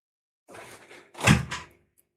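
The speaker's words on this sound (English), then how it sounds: "Shut the door." A door is shut indoors with a solid thunk and a short rattle of follow-through, loud and close by, with no talk over it.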